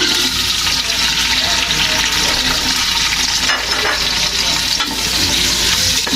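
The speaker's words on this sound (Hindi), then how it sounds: "अब इसको ब्राउन करूँगी मैं" Two large onions fry in oil in a cooking pot until brown, giving a loud, steady, dense sizzle that runs without a break and with no talking over it.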